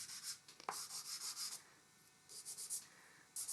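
Pencil shading is rubbed into a landscape drawing on paper with soft, scratchy strokes in short bursts, then a pause before more rubbing. It is quiet and close, with no talking.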